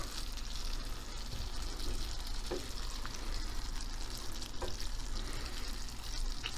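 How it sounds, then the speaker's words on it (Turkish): Spinach fries in melted butter in a covered-then-opened pan, a steady close sizzle and bubbling hiss with occasional gentle stirring scrapes. "Tereyağımız erimiş. Çok fazla ezmeden yine ara ara karıştıralım."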